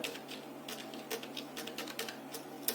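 Quiet, steady clicking of keys on a computer keyboard, a soft patter of taps at a moderate distance with no talking.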